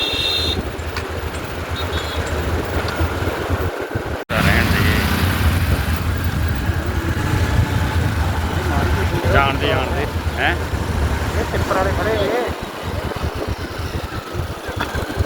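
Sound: vehicles in a traffic jam at Kiratpur Sahib

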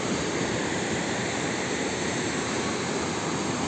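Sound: narrow, fast-flowing creek

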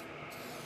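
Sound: airbrush spraying paint on a walleye fish mount

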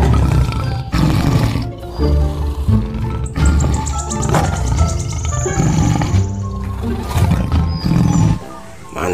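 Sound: tiger roar from a tiger toy

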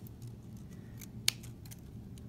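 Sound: scissors trimming a paper snowflake

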